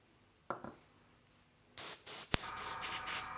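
An airbrush sprays pink food coloring onto a sugar crocodile cake decoration in several short hissing bursts after a couple of faint clicks, close and alone.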